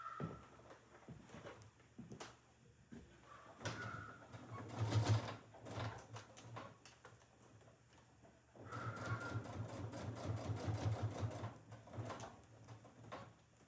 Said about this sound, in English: I'm going to sew over part of the seam I already sewed just to make sure that we have this tight.